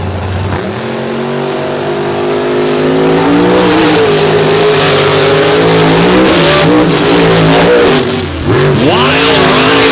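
Monster trucks race on a beach, engines roaring loud and close, a sustained heavy drone that climbs in pitch as they accelerate, then dips briefly and revs hard again near the end.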